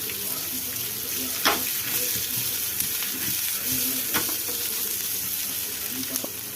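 Onions and curry leaves sauté in a pan for moong dal dosa, a steady close sizzle with occasional stirring scrapes and clinks over a faint background hum.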